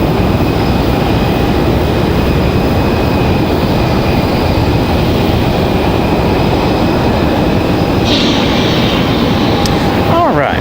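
A Republic Airways jet rolls for takeoff at Raleigh-Durham airport, its engines giving a loud, steady roar with a whining tone rising near the end.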